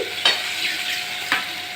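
Fish pieces frying in a pan for a Bangladeshi pangash curry, a steady close hiss of oil broken by two sharp scraping knocks as the pieces are turned over.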